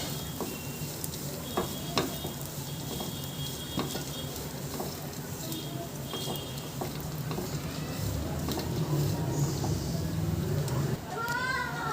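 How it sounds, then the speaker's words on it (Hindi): Grated coconut roasting in a pan while being stirred, a steady sizzle with repeated scraping strokes of a spoon against the metal throughout, growing a little louder toward the end. "हमने कद्दूकस करके रखा है नारियल, उसे भी डाल देते हैं और इसे भी भून लेते हैं थोड़ा थोड़ा।"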